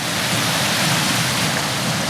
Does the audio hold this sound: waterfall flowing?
yes